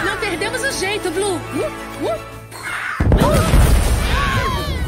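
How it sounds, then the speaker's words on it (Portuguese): A sudden loud boom bursts out near the end of a scene in an animated film, cutting off high chattering and squawking voices and leaving a dense, rumbling crash that keeps roaring. "Eles se assustam com a explosão."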